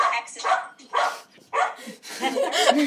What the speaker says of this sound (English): Apparently, there's a squirrel outside, and my dog is offended by this.